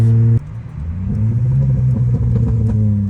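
Holden VY Commodore V6 exhaust idling and rumbling loudly after a short rev, with scattered small cracks and pops through the burble, close to the car.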